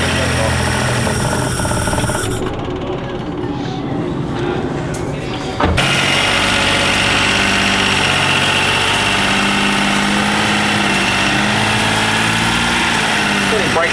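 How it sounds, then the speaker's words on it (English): A 1992 Daihatsu Mira engine idles with a steady, slightly rough hum heard up close, with a brief dip and a sharp jolt midway before the running note carries on evenly. "the engine sounds fine"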